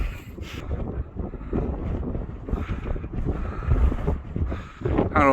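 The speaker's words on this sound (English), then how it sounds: "we're getting a little bit of respite from this wind" Strong wind gusts buffet the microphone on the exposed hilltop summit of Chinley Churn in the Peak District, a continuous loud roaring rumble that swells and eases in waves with no talking.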